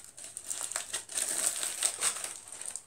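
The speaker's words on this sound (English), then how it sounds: "An Easter egg. Let me unwrap this." Foil wrapping crinkles and crumples close up as a chocolate Easter egg is unwrapped, giving a few seconds of busy, fairly soft rustling with no talk.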